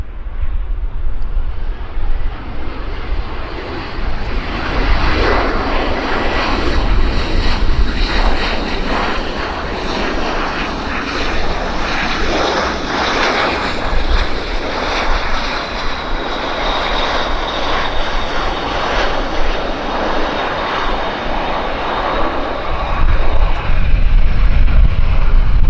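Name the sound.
airplane landing at Vancouver Airport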